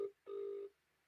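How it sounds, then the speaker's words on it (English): Outgoing phone call ringback tone: one short beep, then a steady, fairly quiet tone about half a second long, followed by silence, with no talk over it. "Marcel, answer the phone."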